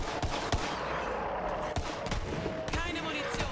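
Gunfire in Borderlands 3 crackles in sharp, irregular bursts of loud shots with brief gaps, close and punchy against a busy game background.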